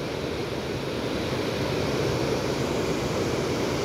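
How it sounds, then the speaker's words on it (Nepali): Flood water rushes through Balghas village in Baglung, Nepal, after continuous heavy rain, a constant dense roar that stays loud and unbroken, with no voices. "यसरी बाढी आएको छ।"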